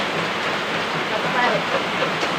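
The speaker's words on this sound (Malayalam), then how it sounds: "നല്ല മഴ സൗണ്ട് കേൾക്കില്ല ആ മഴ നോക്ക്" Heavy rain falls as a dense, even hiss throughout, steady and fairly loud, with no clear voices in the short stretch.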